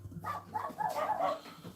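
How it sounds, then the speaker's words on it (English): Dogs barking outdoors on a quiet Sunday morning, a cluster of several barks and yips at moderate distance with no talk over them. "Now the dogs are outside. They're still barking."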